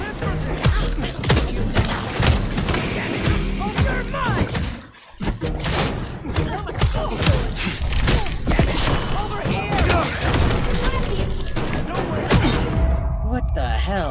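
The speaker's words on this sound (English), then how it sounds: "Why so many freaking shotguns?" Shotguns blast repeatedly in Vampire: The Masquerade – Bloodlines 2, loud, close and dense, a barrage of booming shots with thuds and a brief lull, while a voice talks over parts of it.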